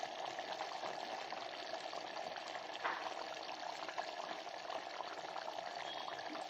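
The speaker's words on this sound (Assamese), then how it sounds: "গেছটো অফ কৰাৰ পাছতো কি ধুনীয়াকৈ উতলি আছে" Handi chicken keeps simmering in a clay pot after the gas is turned off, giving a steady, soft bubbling and hissing that runs evenly throughout, fairly quiet and with no talking.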